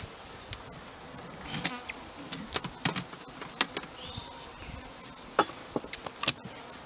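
Honeybees buzzing around backyard hives in the open air, a steady insect hum with individual bees zipping close past at intervals, no talking.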